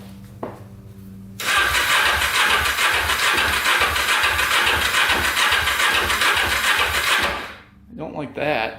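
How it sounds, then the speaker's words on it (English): Kawasaki Ninja sport bike with 19,695 miles starts with the electric starter and runs loud and close, its idle carrying a rapid rhythmic knocking suspected to be a rod knock, then cuts off before a brief voice. "I'm hearing like a knocking sound in the engine here."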